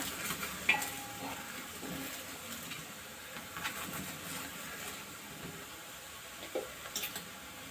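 Masala roti with vegetables and onion roasting in oil on a pan makes a soft, steady sizzle, broken by faint scrapes and small clinks of a spatula, with no voices.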